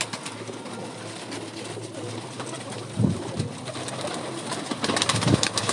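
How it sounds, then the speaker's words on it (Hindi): A female breeder pigeon coos among other pigeons in a loft, with soft rolling coos throughout and a couple of louder throaty bursts near the end, no speech. "देखिए कबूतरी देखें"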